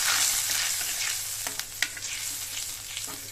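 Crushed raw tomato being stirred into a sizzling curry in a pan, with a steady frying hiss and a few soft scraping stir strokes near the end, no talking.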